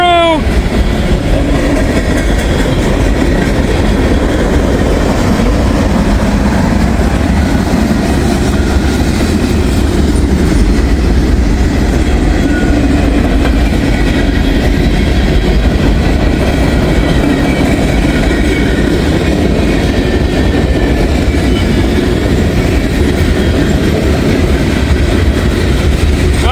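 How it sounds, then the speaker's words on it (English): A freight train with a DPU locomotive passes close by, a loud continuous rumble of railcars with steady clickety-clack wheel rhythm and faint squeals sustained across the whole stretch, no one talking. "we got a DPU coming through"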